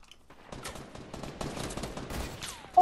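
Rapid gunfire in a zombie-loot battle royale squad match as a player gets shot, dense bursts of shots building over a few seconds, fairly close and loud.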